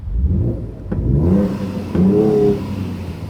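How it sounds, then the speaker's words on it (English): A Ford Ranger Raptor's exhaust set to Baja mode revs twice inside a parking structure, each loud blip rising and falling with a throaty mid-range growl, with no talking over it. "So we're in Baja mode for the exhaust."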